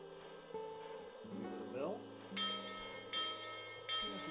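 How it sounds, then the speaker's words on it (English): A Lionel Willy Wonka toy train set sounds its electronic bell, which rings in repeated bright, sustained dings close by, mixed with other onboard sound effects. "Give it a bell. Traditional bell sound."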